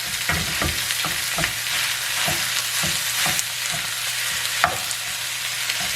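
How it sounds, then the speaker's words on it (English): Ground meat sizzles with browned onion in a pan, a steady loud frying hiss broken by repeated scraping clicks as a tool chops and stirs the meat. "So I'm going to put the meat in, get it all chopped up."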